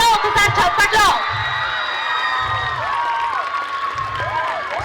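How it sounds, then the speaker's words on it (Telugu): An audience applauds and cheers at a school day celebration after a Narasimha devotional performance. The clapping is steady and loud, with whoops and children's shouts. Shouting voices come early and fade into sustained applause. "గట్టిగా ఒకసారి చప్పట్లో."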